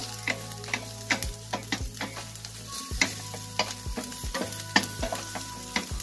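Finely chopped ginger fries in a pan for sinigang sa miso with lapu-lapu, giving a steady close sizzle broken by regular clacks and scrapes of a utensil stirring.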